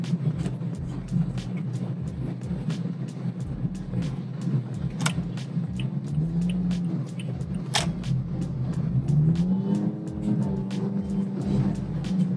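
Steady road traffic along a busy commercial stretch of EDSA near North EDSA, cars passing in a continuous low rumble with occasional engine swells and a few sharp clicks.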